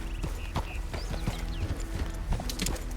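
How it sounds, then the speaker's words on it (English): Horse hooves clip-clop at a walk in a Western-style video game as a rider heads toward a bandit hideout, a steady rhythmic patter of close, moderate hoofbeats with faint ambient game sound beneath. "we're going to ride down, and I'm going to tie Mr. Horse up over here."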